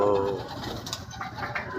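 Racing pigeons at a club loft in San Jose, Nueva Ecija coo in soft, repeated throaty calls, fairly close, over a steady background murmur with some voices nearby.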